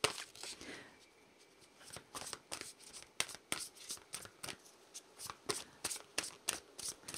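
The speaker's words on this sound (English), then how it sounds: "I'm going to pull some cards from the Aboriginal Dreamtime." A tarot deck, an Aboriginal Dreamtime set, being shuffled close up: a run of crisp riffling flutters and soft card slaps in an uneven rhythm, quiet and alone.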